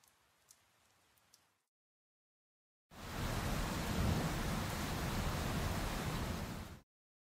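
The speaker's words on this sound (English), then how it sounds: "Should rain soon." Steady heavy rain pours in the video game Mr Love Queen's Choice, a loud, dense, even rush lasting about four seconds, preceded by a faint quiet stretch.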